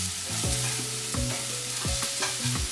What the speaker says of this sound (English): We're gonna go ahead and saute our onions.